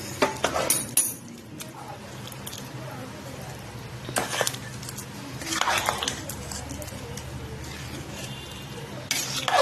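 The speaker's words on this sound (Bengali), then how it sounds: "পুরো এটা মিলিয়ে নেবো মশলাটা খিচুড়ির সঙ্গে" Spoon stirring spices into khichuri in a cooking pot, with several sharp metallic scrapes and clinks spaced irregularly over a low background hum.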